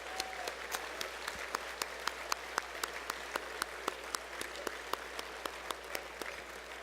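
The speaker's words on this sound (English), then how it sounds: "How about a round of applause?" Quiet audience applause at a Portland State University awards ceremony welcoming a CNN news anchor, distinct individual claps ringing out steadily over a soft background hum.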